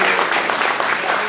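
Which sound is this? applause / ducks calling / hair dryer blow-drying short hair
applause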